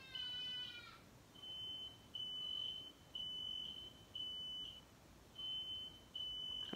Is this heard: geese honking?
no